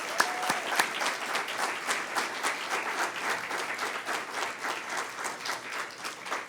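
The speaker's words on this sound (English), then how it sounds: "How about one big round of applause?" A crowd at a university alumni awards ceremony applauds continuously, a dense even patter of many hands clapping throughout.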